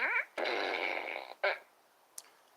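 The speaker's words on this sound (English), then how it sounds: "I have my fart gun." A toy fart gun lets out a long, buzzy raspberry, then a shorter second burst and a faint brief squeak, sounding close and fairly loud in a quiet outdoor afternoon setting.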